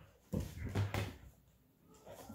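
A playful puppy whimpers and whines indoors in a few close, short bursts, with a brief soft thump among them.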